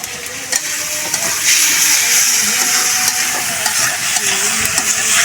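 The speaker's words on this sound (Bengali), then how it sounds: "মশলার সাথে টমেটো ভালো করে হচ্ছে ভাজতে হবে, যাতে টমেটোর জলটা টেনে যায়।" Chopped tomatoes fry with spice paste in a pan, a loud, continuous close sizzle and hiss with occasional stirring scrapes.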